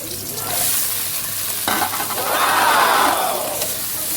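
Kangkong stems with tomato stirred in a hot cooking pan, giving a loud continuous sizzle and frying hiss with rustling stirring strokes, close up with no voices.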